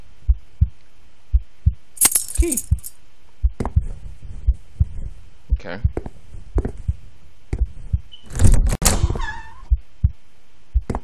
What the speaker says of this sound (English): His heartbeat is like freaking me out.